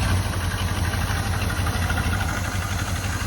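A 1984 Jeep Wagoneer engine running rough as it is put in gear, a steady loud low idle rumble with uneven throb filling the whole moment, no talking.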